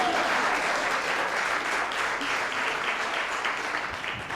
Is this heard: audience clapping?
yes